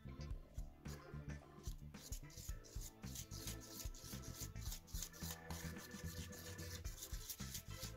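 Soft, close rubbing and squishing as homemade galaxy slime is stirred with a small amount of glitter, continuous irregular strokes at low level with no talking.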